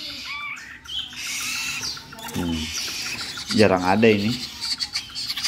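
Takur bulldog barbet nestlings give loud, close, harsh pulsing calls in short bursts, separated by brief gaps, with someone talking briefly alongside.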